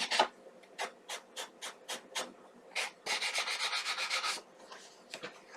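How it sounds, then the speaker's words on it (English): Rhythmic scraping strokes of a sanding block rubbing along an edge, a slow series of separate passes followed by a quicker burst of back-and-forth rubbing. "I'm just going to take a sanding block."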